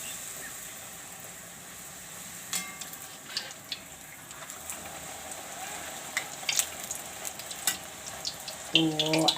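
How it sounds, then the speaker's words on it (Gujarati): Puris deep-frying in hot oil for a Bhavnagar dal shaak and puri meal, with a steady low sizzle and bursts of crackle and small clinks from a utensil, fairly close and without voices. "આ રીતે આપણે બધી તળી લેવું"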